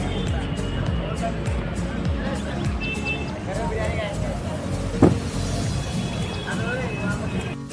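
Road traffic outside Akshardham metro station in Delhi rumbles along with passing cars and buses, a sharp knock standing out near the middle, while people talk nearby over the steady street noise.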